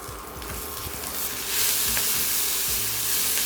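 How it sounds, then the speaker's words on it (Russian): Onions and carrots fry in a kazan for braised lamb shanks with vegetables, a dense close sizzle that swells louder partway through and holds as a continuous hiss. "И немного моркови. Все это нам нужно слегка обжарить."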